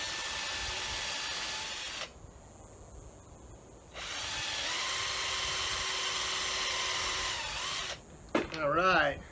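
A power drill drives screws in bursts of steady whining, stopping and starting as each screw seats, with a voice speaking briefly near the end.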